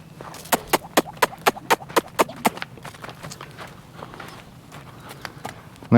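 A horse walks with a steady clip-clop of hooves, about a dozen even, close strikes in a regular rhythm that then fade into softer, scattered steps.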